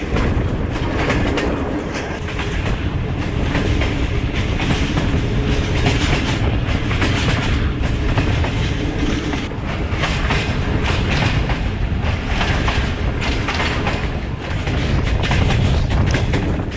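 The Allama Iqbal Express runs along the track from Sialkot to Lahore, a loud, continuous rumble with steady wheel clatter heard from inside the moving train.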